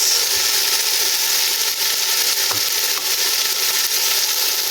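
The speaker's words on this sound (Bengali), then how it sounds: "এখন আমি দিয়ে দিচ্ছি আদা রসুন কাঁচামরিচ কুচি করে একটা চামচ" Ginger, garlic and chopped green chili fry in a pan for a chicken samosa filling, a steady loud sizzle that runs unbroken throughout with no voices.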